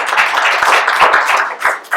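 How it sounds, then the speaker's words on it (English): A close, loud round of applause from an audience at a local-office candidate event, dense rapid clapping that holds steady for two seconds. "I'd like to have a round of applause for"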